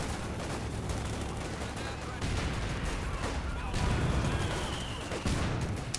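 A video game battle fills the air with dense gunfire and explosive bursts, including a mortar hit, in a continuous loud barrage with heavier thumps partway through, without speech.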